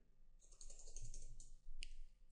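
Someone types a website name on a computer keyboard: a quick, quiet run of clicking keystrokes, close by, with a short gap and a final sharper key press near the end.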